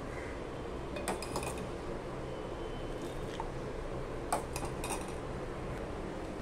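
Milk scooped out of a pot of reduced milk with a utensil, giving soft metallic scrapes and light clinks against the rim, scattered across a low steady background.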